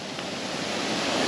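A small waterfall sends a steady, broadband rush of water, close and continuous without any break, with no voices over it.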